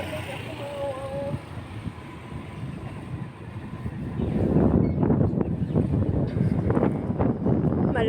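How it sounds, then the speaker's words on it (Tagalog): Wind from Typhoon Krising blusters against the microphone, low and rumbling, growing heavier and gustier partway through, with no talking over it. "Malakas ang hangin mga wow."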